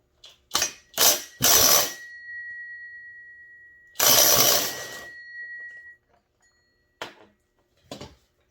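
A ratchet works the clutch loose on a Holzfforma 288 chainsaw in a workshop, with three quick bursts of clicking, then a longer ratcheting run, and a few sharp metallic clinks trailing off as the clutch comes free.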